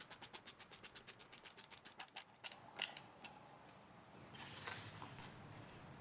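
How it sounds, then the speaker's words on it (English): Panhead machine screws being driven into a 3D printed jig for woodworking, a fast run of about twenty evenly spaced ratcheting clicks that slows and stops, followed by a few faint scrapes and handling sounds. "And then from there I can just add these two little panhead machine screws"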